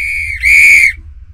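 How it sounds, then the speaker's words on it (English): New coach's whistle blown loudly and close, one shrill steady blast that briefly dips then swells stronger before cutting off, with no talk over it. "Just what I needed, a new whistle!"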